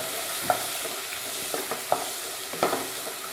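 Turmeric and other spices are stirred in a pan for a South Indian sweet fruit curry, with a soft steady sizzle and three or four distinct scraping strokes of the spoon, close by and without talk.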